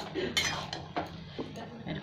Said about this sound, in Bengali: একবার নেড়ে দিচ্ছি।